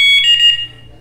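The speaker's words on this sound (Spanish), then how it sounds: "Ese es el sonido de confirmación de que el control está cerca." A BNY two-way motorcycle alarm gives a single loud, high electronic confirmation beep lasting about half a second when its remote control is nearby, then decays into quiet.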